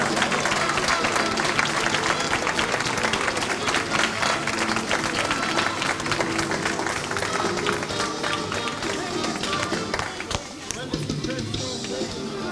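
Guests at a wedding reception give a big round of applause as the bride is escorted in, with sustained crowd clapping mixed with cheering and voices throughout.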